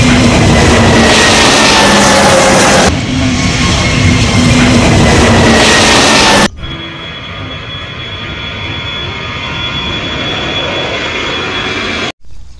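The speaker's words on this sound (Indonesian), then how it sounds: "Coba kita terbangkan pesawat terbangnya." A toy Lion Air airplane plays a loud, steady engine roar alone for about six seconds, then it drops to a quieter, constant whine and hum that cuts off briefly near the end.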